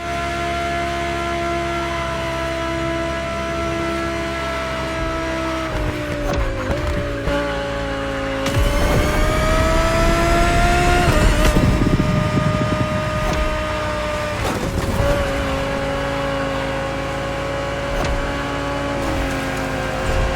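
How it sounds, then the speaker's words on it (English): A 2020 Audi R8 LMS GT2 race car in The Crew Motorfest video game holds a loud, steady engine drone with pitch shifts through gear changes, swelling to a harsher roar midway before settling back. "The 2020 Audi R8 LMS GT2."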